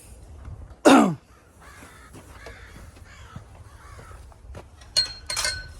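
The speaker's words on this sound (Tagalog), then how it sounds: "Ayun na pa may ingay yung mga ibon na yun." A crow gives one loud caw outdoors, then softer bird calls and rustling follow, and a harsher burst of cawing comes near the end.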